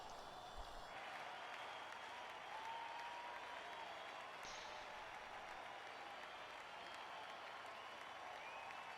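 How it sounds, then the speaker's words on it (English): Video game applause in a small auditorium in The Talos Principle, a continuous, even wash of clapping heard quietly and at a distance, looping without a break. "That is too much applause for a small auditorium and the 5 members that are here."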